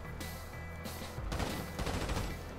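Sniper rifle fire in Grand Theft Auto V: loud bursts of gunfire with a rumbling, crackling tail over busy in-game background noise, one burst near the middle and another heavy volley toward the end.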